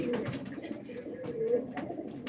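Low, rolling coos from pigeons at a live auction, several birds close by repeating their calls, with a faint human voice mixed in beneath them.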